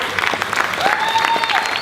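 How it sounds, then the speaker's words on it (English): Brief clapping from a small group after a business talk, a short burst of applause with a high whistle-like tone sliding through it. "round of applause"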